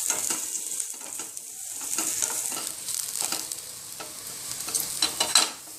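Cumin, sesame and poppy seeds fry in a pan for a green gram gravy, a light crackling sizzle with stirring scrapes and taps, close and steady, with no speech.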